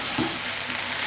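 Onions, carrots and raisins fry and are stirred in a pan, a brief close sizzle with a faint scrape, no voices.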